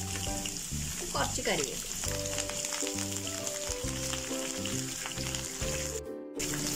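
Garlic and sliced green chillies frying in oil for a cut mango pickle, a continuous soft sizzle with intermittent stirring clinks, under a voice speaking briefly.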